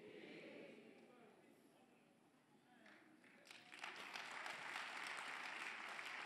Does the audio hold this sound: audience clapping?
yes